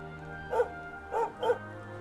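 Dog in Dragon Quest XI gives three short barks, one then a quick pair, clear over a quiet steady game background.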